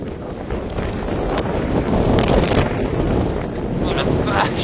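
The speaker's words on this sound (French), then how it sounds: "Des feuilles qui volent et du vent." Strong gusts from Storm Benjamin roar through a storm-battered park in Isère, a continuous loud buffeting rush that swells and eases, with leaves blowing about.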